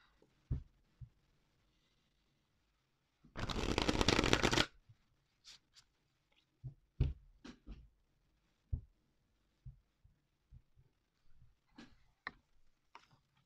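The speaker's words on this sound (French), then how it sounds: "On va un petit peu les mélanger comme ça." Oracle cards shuffled by hand, a dense riffling burst of about a second, followed by scattered soft taps and clicks of cards being handled in a quiet room.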